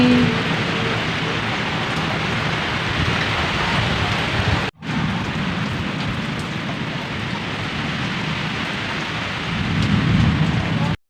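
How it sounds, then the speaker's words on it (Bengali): Heavy rain pouring down steadily in a dense, loud hiss, with low thunder rumbling beneath and a brief dropout partway through. "বাইরে তো মুসুলধারা বৃষ্টি আর ঝড় হচ্ছে"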